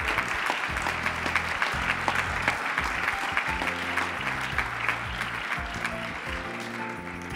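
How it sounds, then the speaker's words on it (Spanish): Audience applause at the presentation of the poster for the 2018 Moros y Cristianos festival, a steady dense clapping from a crowd that holds evenly for the full stretch. "Y ese aplauso, por supuesto, para ellos."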